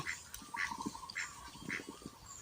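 Ducks kept at a Thai farm pond, some of them sitting on eggs, give several short nasal quacks spaced through the clip, moderately near, with soft rustling and low background noise beneath.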